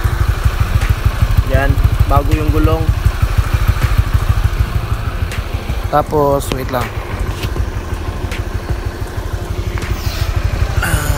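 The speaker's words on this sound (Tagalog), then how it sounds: "nag-preheat muna tayo sa ating motor" A motorcycle engine idles steadily and loudly while warming up, a constant low rumble while someone talks over it.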